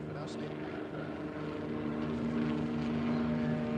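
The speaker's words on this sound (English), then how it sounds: "Army helicopters coming in low" Army helicopters flying low drone steadily in the background, a constant hum of rotors and engines heard from some distance at moderate level.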